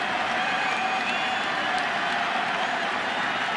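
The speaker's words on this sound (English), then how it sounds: "Crowd gets behind Verlander." Baseball stadium crowd at a 2011 ALCS Game 5 roaring in support of pitcher Justin Verlander, a dense, sustained wall of cheering and clapping that stays loud throughout.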